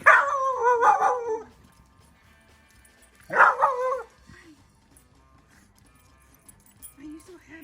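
A dog gives two drawn-out howling barks a couple of seconds apart, close and fairly loud, followed by quieter whines, with a person talking around it.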